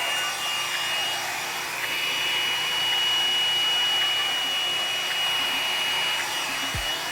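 A blower set on high pushes paint across a canvas for a Dutch pour, a steady loud whooshing hum with a faint tonal whine that holds throughout, no talking.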